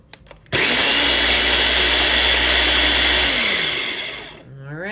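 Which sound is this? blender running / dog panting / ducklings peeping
blender running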